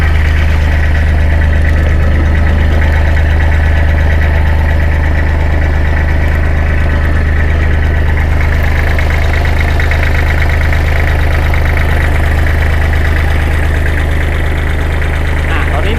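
A 2008 Kubota L3408DT tractor's diesel engine idling steadily, loud and close, a constant low drone with rough, knocking vibration running through the whole stretch.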